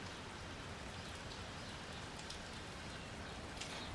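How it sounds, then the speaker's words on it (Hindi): Light rain falls steadily in the open, a continuous soft patter of drops on surfaces with no voices. "यहाँ ये अभी चल रही है बारिश हल्की हल्की"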